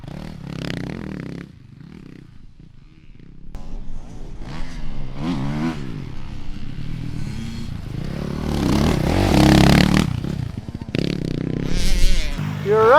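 A motorcycle rides through a rutted dirt corner, its engine revving up and easing off in loud, close surges that build toward the end.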